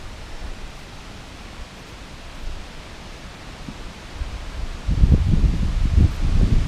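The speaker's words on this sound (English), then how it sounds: "It's windy as shit out today." Strong wind blows across a mountain overlook at Caesars Head State Park, a steady rushing roar that gusts louder and rumbles toward the end, heard alone with no talk.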